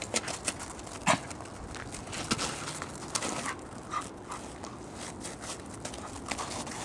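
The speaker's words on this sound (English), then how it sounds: "Snow dog." A dog out in the snow gives faint, scattered whimpers and small sounds amid a steady outdoor background, with soft crunching movement throughout.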